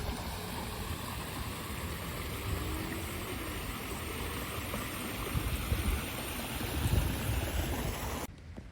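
A creek flows at a Halloween 4 filming location near Salt Lake City, a steady broadband rushing of water close by with some wind-like noise, continuous and unbroken, with no voices.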